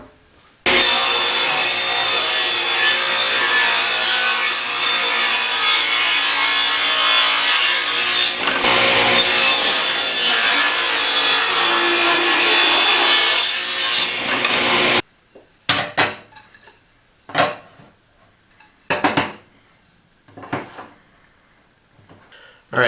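A saw rips hardwood strips against the fence, a loud sustained cutting roar for about fifteen seconds, followed by several short rubbing and knocking sounds as the wood pieces are handled.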